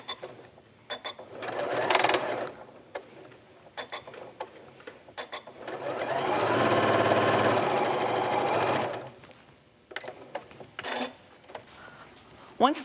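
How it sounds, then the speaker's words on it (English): A domestic sewing machine stitches a stitch-and-flip quilt unit on fabric, with short bursts of whirring and rattling, then one longer steady run of several seconds, and clicks and handling noises in between. "So let's go to the sewing machine to sew that."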